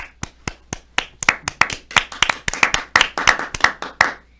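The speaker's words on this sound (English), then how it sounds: "Can we have a round of applause for him?" Sparse, distinct hand claps ring out one after another, a small audience applauding a technical director with uneven rhythm that grows slightly fuller toward the end.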